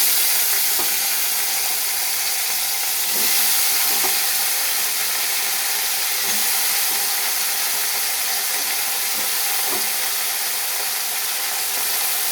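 Cut potato, eggplant and vegetable stems fry in a hot pan with a steady, loud hiss. Faint clicks and scrapes of stirring break through now and then, and no one speaks.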